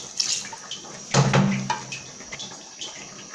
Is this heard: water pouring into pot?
yes